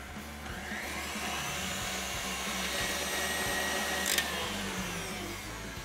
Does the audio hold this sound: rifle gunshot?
no